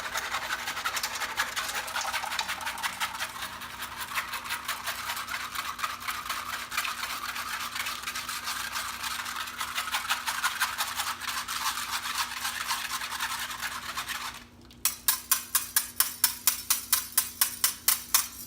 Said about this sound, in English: to help pass it through your strainer, a whisk, highly recommended.